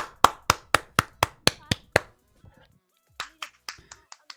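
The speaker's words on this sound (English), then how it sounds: "had to clap too" Crisp hand clapping close up, eight evenly spaced sharp claps, a brief pause, then a quicker, softer run of claps.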